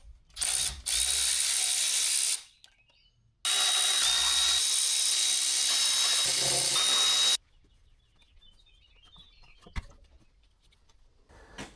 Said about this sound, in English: Let's take the valve cover bolts out